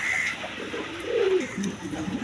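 Pigeons of several breeds, among them a Danish magpie and a Kaldam pair, coo close by in soft low rolling calls with a brief higher note, over steady background noise.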